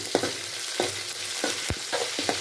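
Chopped onion and green chillies frying in oil with mustard seed and cumin, a constant close sizzle punctuated by repeated scraping stirs of a spatula, one heavier knock near the end, no voices.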